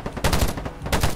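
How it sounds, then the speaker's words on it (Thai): Gunfire in a video game shooter rings out as two dense, loud bursts of rapid automatic fire with a short pause between them. "ที่ยิงใครวะเนี่ย"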